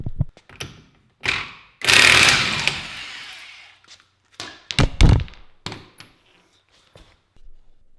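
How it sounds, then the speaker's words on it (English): A 32mm socket on an impact wrench hammers at an axle nut to break it loose, with a long loud burst of rattling impacts near the mic, followed by scattered clunks and taps of tools and parts. "Now we are going to use this 32mm socket on an impact wrench to"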